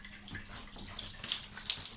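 Hot water pouring steadily from the tap of a newly installed boiler, a continuous hissing splash that grows slightly stronger partway through, heard alone without talk.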